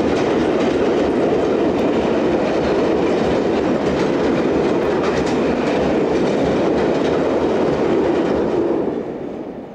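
A locomotive-hauled freight train rolls past at Salisbury, a loud, sustained rumble with rhythmic clickety-clack of wheels over rail joints, close by and fading slightly at the end.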